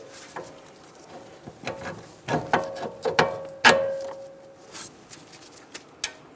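A nut is being tightened on a sway bar link of a Buick Enclave's front suspension, giving a series of close, irregular metallic clicks and ratcheting clatters that grow louder midway, then trail into sparse taps.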